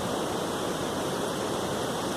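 Waterfall at Cachoeira do Formiga in Jalapão, Tocantins, with water pouring close by in a steady, dense broadband roar that holds constant and loud throughout, with no voices.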